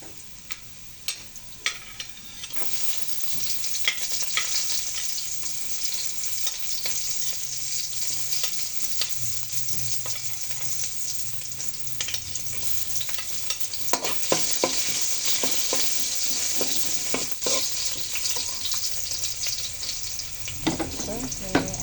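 Onions frying and sizzling in a pan for menudo, a loud steady sizzle with occasional scraping stirs and clatter throughout, no voices.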